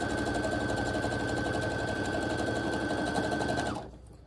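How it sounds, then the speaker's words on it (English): A sewing machine hums and chatters in a fast, even rhythm while stitching a quilting jelly roll strip, running steadily for a few seconds close up before stopping abruptly. "I'm just going to sew right down the side and on that jelly roll strip."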